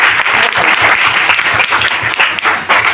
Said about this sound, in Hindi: शानदार ताली सर अपने लिए।